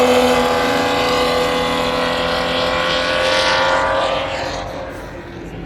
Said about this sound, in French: Regarde la Ferrari.